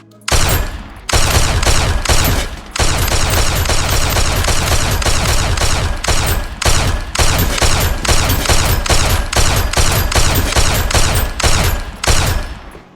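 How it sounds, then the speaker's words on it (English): Gun firing in the game Unturned Life RP, a loud, sustained volley of rapid automatic shots in several long bursts with brief pauses between them, close and harsh, with no talk. "Here's how it shoots."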